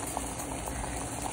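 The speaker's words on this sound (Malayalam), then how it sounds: "ശർക്കര പാനി തളിച്ചുകൊണ്ടിരിക്കുന്നുണ്ട്" Jaggery melting into syrup in a pot on a kitchen stove gives a steady, soft bubbling and simmering hiss with faint pops, continuous and close, with no talking.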